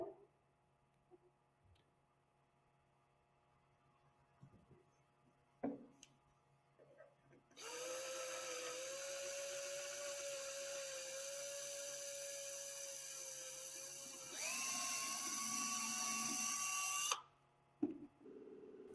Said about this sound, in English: Then drill through the rubber.